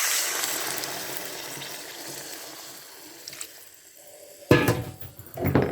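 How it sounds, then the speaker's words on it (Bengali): Water poured into a pan of potato and cauliflower curry with bori, a brief close splash and gush near the end after a quiet kitchen hiss, followed by a second burst of pouring. "দিচ্ছি জল।"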